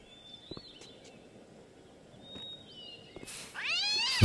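Cat in the video game Gabriel Knight 3, a few faint thin meows over quiet background, then a loud, drawn-out pained yowl near the end.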